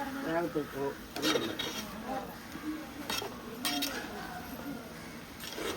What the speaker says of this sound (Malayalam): നല്ല പരുവത്തിന് ഇളക്കി കൊടുക്കണം.